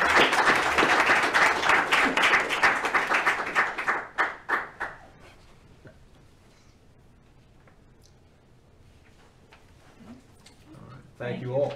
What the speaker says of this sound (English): I think these guys deserve a big round of applause.